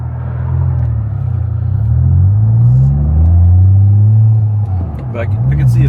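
Porsche Boxster fitted with an aftermarket eBay exhaust drones steadily at cruising revs, a loud, continuous low rumble that rises and falls slightly in pitch throughout.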